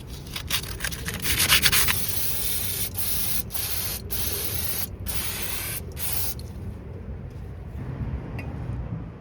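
A Peugeot Expert wheel hub is scraped and cleaned before a new brake disc goes on, giving continuous close rasping and brushing strokes with brief pauses, fading to a softer scrub toward the end.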